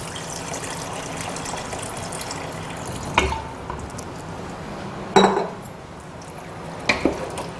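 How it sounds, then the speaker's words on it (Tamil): Milk being poured into pasta shells in a pan produces a soft, continuous wet gush, with a few sharp clinks of a utensil against the cookware. Nobody speaks. "ஸோ இப்போ பால் கொஞ்சம் ஊற்றிக்கலாங்க"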